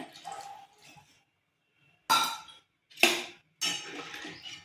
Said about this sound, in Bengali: এবার আমি ঢাকা দিয়ে দিচ্ছি আলুটা সেদ্ধ হওয়ার জন্য।